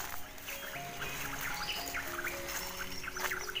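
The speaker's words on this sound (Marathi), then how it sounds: "पक्ष्यांचा आवाज मस्त येतो ना" Birds chirp among the cashew trees of an orchard, with scattered short, faint tweets over a soft outdoor background and no talking.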